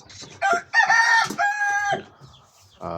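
An adult Brahma rooster lets out one loud, close crow in several drawn-out segments, then gives a short, clucking call at the end.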